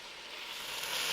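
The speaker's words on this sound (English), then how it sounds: "We can toast those Szechuan peppercorns we're going to use later too." Szechuan peppercorns toast in a pan, giving a faint, steady sizzling hiss that swells slightly toward the end.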